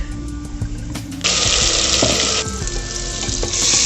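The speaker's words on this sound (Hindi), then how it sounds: "प्याज भुन चुका है" Onion, garlic and ginger paste with cumin, cinnamon, cloves and bay leaf frying in hot oil, a steady loud sizzle that jumps louder partway through, with occasional stirring clinks, no talking.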